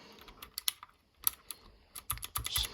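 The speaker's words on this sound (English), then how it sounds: "these are the switches it uses. So Gateron blue, like I said, but they're like really good switches. They're really clicky." Typing on an HK Gaming GK61 mechanical keyboard with clicky Gateron blue switches: sharp, close, fairly quiet clicks in irregular bursts, spaced out at first and then quicker, with no talking.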